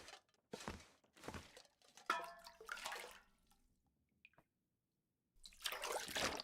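Water is collected in the survival game The Long Dark, with several short bursts of splashing and pouring liquid, broken up by a few knocks and a brief silent pause, close and clear with no talk.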